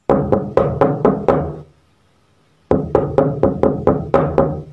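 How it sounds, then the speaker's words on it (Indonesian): Fast, loud knocking on a door: two bursts of about six sharp, evenly spaced raps each, with a short silent gap between them, close and with no voices. "Ketukan itu datang lagi, kali ini lebih cepat dan keras."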